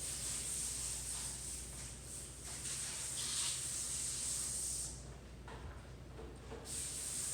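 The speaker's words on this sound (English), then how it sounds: "So I go along and I spray every single one on one side" Steady hissing of a spray bottle watering sunflower microgreen seed trays runs almost continuously, with a brief pause and softer bursts partway through, close by and moderately quiet.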